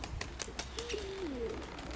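A steel-grey mottled hen pigeon coos once, a low wavering call heard close by with faint bird chirps in the background.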